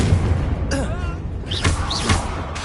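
Confringo spell blasts go off in Hogwarts Legacy, several short, muffled booms in quick succession alongside spoken voices and a low background rumble.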